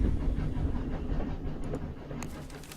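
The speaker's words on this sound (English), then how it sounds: "We clambered aboard the Blackfoot train once more for another leg of our journey." A train in the video game 80 Days rumbles steadily along, low rolling rail noise with faint rhythmic clatter and a hiss of steam rising near the end, loud and alone without speech.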